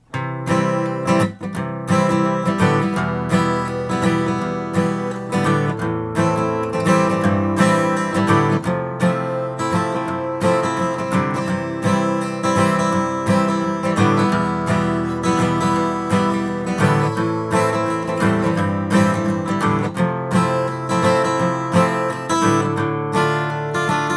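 Acoustic guitar strums the chords of a song in a steady, even rhythm, full and close, playing alone without any voice for about twenty-four seconds.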